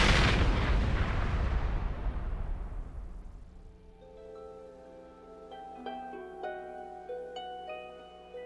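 A bomb blast in a documentary about drug violence in Colombia: a huge roaring explosion that fades over several seconds into a low ringing tonal sound.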